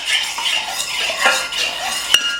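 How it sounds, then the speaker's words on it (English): Lemon zest and liquid being stirred in a bowl for a lemon velvet cake, the utensil scraping and clinking against the bowl in quick continuous strokes up close, ending with one sharper knock. "we're gonna stir this up"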